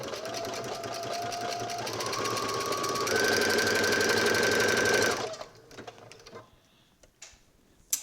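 Home sewing machine running a back stitch on knit fabric for a dress, a steady whirring hum that steps up in speed twice over about five seconds, then cuts off leaving faint clicks and handling noises.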